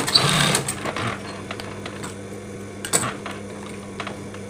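A sewing machine stitching a tie piece for a mukena, a quick loud burst of whirring at the start, then quieter intermittent mechanical clicks and a short second burst.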